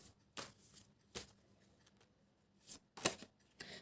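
Tarot cards drawn and shuffled from a deck during a card reading, giving several soft, brief papery flicks and slides spaced apart over a quiet background.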